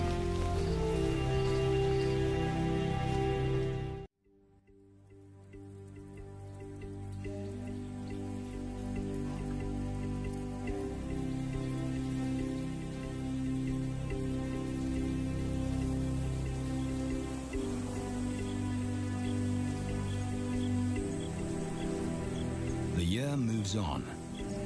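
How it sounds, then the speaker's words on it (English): Steady rain pattering and dripping on surfaces, continuous and fairly close, with a brief drop-out near the start before the downpour resumes. "Playing in the rain,"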